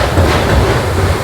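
A passenger train on a sleeper-class journey runs along the track right beside Nangal Dam, giving a loud, steady rumble with a rhythmic clickety-clack of wheels throughout.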